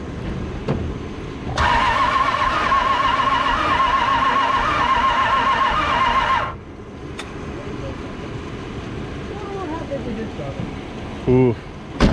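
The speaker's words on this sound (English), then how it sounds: "I'm gonna go ahead and turn it over and see if it'll build any sort of oil pressure" A Dodge Ramcharger's worn-out 318 engine is cranked over by its starter, a steady churning, whirring grind that runs about five seconds at close range before cutting off, followed by quieter background noise and a few brief knocks.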